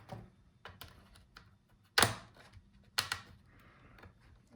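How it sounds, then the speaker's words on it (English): A plastic pry tool works around the edge of an MSI Creator 15 laptop's bottom case, producing soft scattered taps and clicks with two sharper snaps as clips release, close and quiet. "Now let's lift the bottom case. Use the plastic tool, otherwise you will scratch your laptop."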